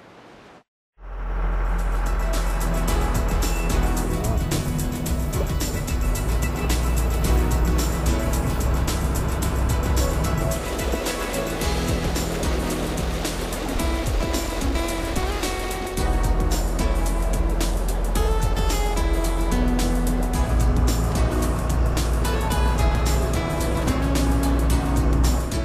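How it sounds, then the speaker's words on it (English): A truck hauling hatchery-raised fish downriver from a fish hatchery, its engine starting after a brief quiet moment and then droning loudly and steadily throughout, close by. "let's truck those fish downriver"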